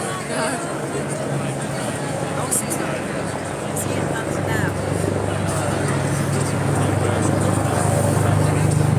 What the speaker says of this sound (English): BBC camera helicopter just up there on my right, which we can all hear at the moment.